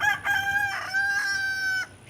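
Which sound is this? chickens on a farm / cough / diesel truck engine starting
chickens on a farm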